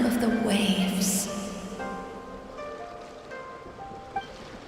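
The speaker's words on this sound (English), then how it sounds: "Go to where you can hear the sound of the waves" Ocean waves in the Mizuki story quest of a video game: a soft, steady surf wash that fades gradually, with chiming game tones layered on top.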